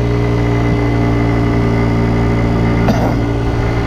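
Kymco Agility 50 scooter engine running while riding on a sunny day, a steady, loud, close droning hum with a brief rustle near the end and no talk.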